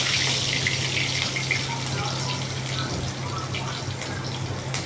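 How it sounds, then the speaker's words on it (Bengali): Green chillies fry in hot oil in a pan, giving a steady, continuous hiss and sizzle that holds at an even level throughout, with no voices over it. "আমি তেল বসিয়ে লঙ্কাগুলো ভেজে নিচ্ছি ভালো করে।"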